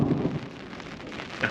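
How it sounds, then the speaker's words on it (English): Steady rain with a low rumble of thunder rolling underneath, fairly close and loud, during a storm on a mountaintop campsite, no voices present. "like the sound of the storm and the rain"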